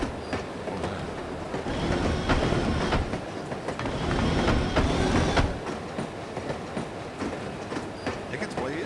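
A train rolls along in the video game No One Lives Forever, a steady, dense rumble with rhythmic clatter and occasional metallic squeals, fairly loud throughout with no clear speech.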